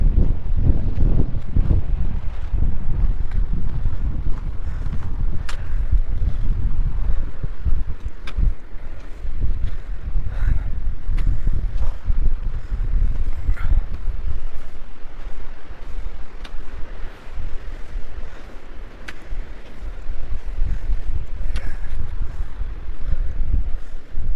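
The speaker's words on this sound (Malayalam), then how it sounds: "നല്ല കാറ്റ്." Strong wind buffets the microphone in heavy, continuous gusts at Dingboche on the Everest Base Camp trek, a loud low roar that swells and dips throughout.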